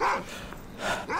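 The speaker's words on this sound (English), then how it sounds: "bunch of wild dogs running behind me" Wild dogs in the video game S.T.A.L.K.E.R. Dead Air mod give a quick run of yelping barks close by, several short sharp calls within about a second, with no talk.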